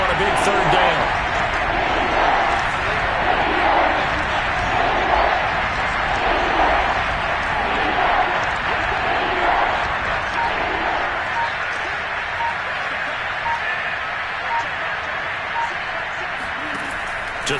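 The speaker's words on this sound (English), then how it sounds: "the crowd getting into it as we come up on a big 3rd down" Stadium crowd at a Packers football game roaring steadily as a big third down approaches, a dense continuous wash of cheering and noise that holds for the whole stretch, with a commentator's voice talking over it.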